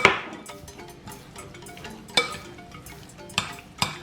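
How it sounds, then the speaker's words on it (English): Spiced beef kebab meat with thyme being stirred in a bowl, giving soft scraping and shuffling with a few sharp utensil knocks against the dish, close and moderately loud, no talking. "first I'm going to stir this, and also my thyme"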